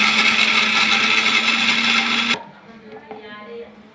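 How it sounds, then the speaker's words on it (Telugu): A kitchen mixer grinder runs loud and close with a dense whirring roar for about two seconds, then cuts off abruptly, leaving a quieter, faint residual rattle. "మిక్సీ గ్రైండర్ ఆన్ చేసిన"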